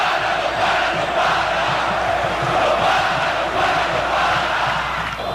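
Corinthians football fans fill Morumbi stadium with loud, sustained crowd cheering and chanting, a dense roar from a vast mass of voices that carries steadily without a break.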